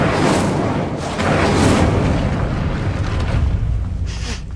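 The Incendio fire spell goes off in Hogwarts Legacy on PS5 as a loud, sustained roaring whoosh of flame with rumbling bursts that surge and swell for several seconds.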